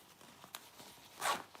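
A special cinching zip on a rain jacket with storm flaps, one quick, close zipping rasp after a few faint rustles.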